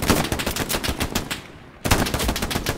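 Rapid gunfire in the World War II shooter game Hell Let Loose, dense bursts of close automatic shots that cut out briefly before resuming just as loud.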